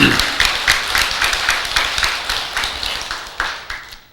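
Sparse, uneven clapping from a temple audience of a few people, scattered individual claps coming in a loose irregular rhythm, moderately close and without speech over it.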